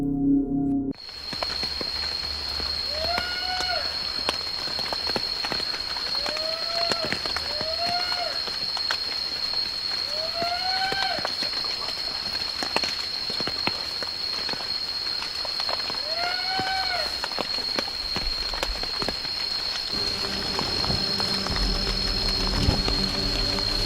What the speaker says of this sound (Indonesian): Tiba-tiba hujan pun turun sangat lebat